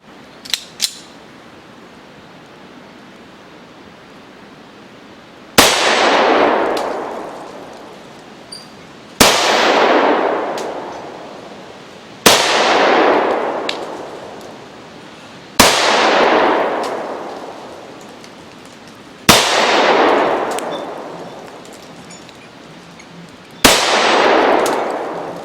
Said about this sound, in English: let's see if I can use the TT33 to make some steel plate spin